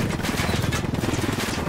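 Sustained automatic gunfire from a firefight in Tom Clancy's Ghost Recon Wildlands, a dense stream of rapid, overlapping shots at steady loudness with no pause, close and busy.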